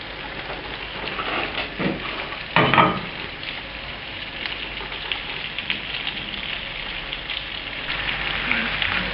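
Sugar melting into caramel in a pan for a tarte tatin, giving a steady soft sizzle with a brief louder bubbling flare, close and continuous.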